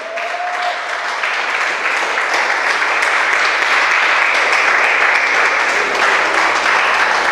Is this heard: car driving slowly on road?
no